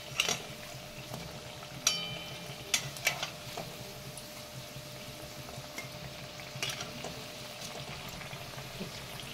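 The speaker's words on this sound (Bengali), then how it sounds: "এক পিঠ আমার ভাজা হয়ে গেছে। এবার আর একটা পিঠ উল্টে দিচ্ছি।" Drumstick leaf fritters fry in hot oil in a pan, giving a soft, steady sizzle with a few sharp taps and clinks of a utensil as they are turned.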